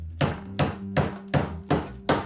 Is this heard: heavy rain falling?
no